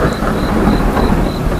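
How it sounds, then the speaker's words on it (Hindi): A low, steady thunder rumble rolls beneath dense, continuous rainfall, loud and close throughout. "बिजली की गड़गड़ाहट की आवाज पूरे गांव में गूंज रही थी।"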